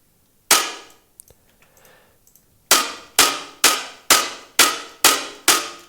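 Synthesized snare drum from a single-oscillator operator patch in Ableton, not a sample. After one isolated crack and some faint noise, six sharp, bright hits follow in an even rhythm, each decaying quickly and heard alone.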